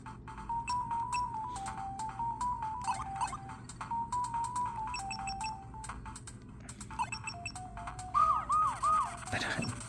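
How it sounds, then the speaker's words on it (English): Repeating electronic warning siren from the Dr. Mario puzzle game on Game Boy Advance, a wavering two-tone chirp looping over busy chiptune music and sound effects, rising into a louder, faster alarm near the end. "Once it reaches like a certain height, then it like keeps making that annoying siren sound."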